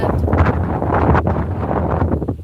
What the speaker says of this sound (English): I really didn't know it was this windy when I set up out here.